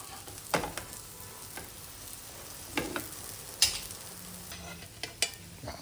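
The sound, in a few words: sweet potato tikkis frying in ghee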